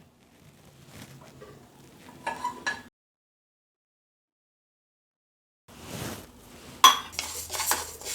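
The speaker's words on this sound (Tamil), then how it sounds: "வாங்க சிறுபருப்பை வறுக்கலாம்" Moong dal dry roasting in a pan for sweet pongal, with scraping and clinking of a utensil against the pan in short bursts, a silent gap, then sharper metallic clinks and stirring near the end.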